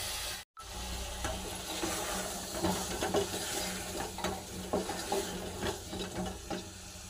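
Potato pieces frying in hot oil spiced with turmeric, chilli, cumin and garam masala in a pan, a low steady sizzle with scattered clicks of stirring, one very brief dropout near the start, no talk.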